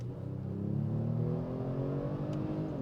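A 2023 Kia Stinger GT's engine pulls hard at full throttle, a deep, steady drone rising in pitch as the car accelerates, heard from inside the cabin.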